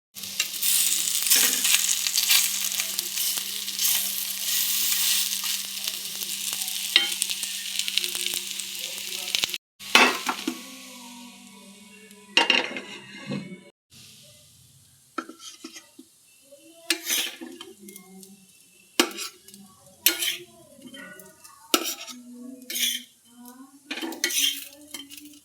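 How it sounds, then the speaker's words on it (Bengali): Food fries in a pan over a medium gas flame, a loud dense sizzle at first that breaks off, followed by sparse clinks and scrapes of utensils against cookware with a faint voice now and then. "গ্যাসের ফ্লেমকে মিডিয়ামে রেখে লাল লাল করে ভেজে নিতে হবে।"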